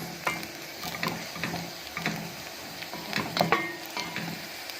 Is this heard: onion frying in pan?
yes